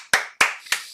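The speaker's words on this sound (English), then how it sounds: "That's why I clapped." Three sharp hand claps from one person ring out in an even rhythm, close and crisp, each with a short decay and nothing else around them.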